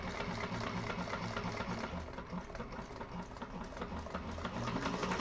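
A sewing machine stitches a vinyl handbag with a steady, rapid mechanical whirr and rhythmic needle knocking, close and continuous with no talking.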